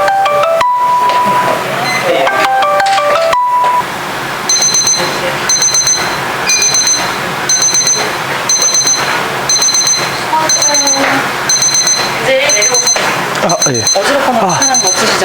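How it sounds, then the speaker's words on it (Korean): An electronic alarm beeps in a steady repeating pattern of short high tones over a noisy blood donation centre room with people talking. "이제 벨이 울렸어요"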